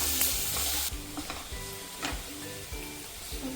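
Sliced onions frying with salt in a pan for a chicken fry, a close hiss of sizzling broken by repeated scraping stirs of a spatula in an uneven rhythm.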